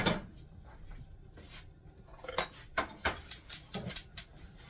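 A frying pan shifted on a stovetop in a kitchen, with scattered metallic scrapes and knocks followed by a quick run of about eight sharp clanks, close and clear, with no talk.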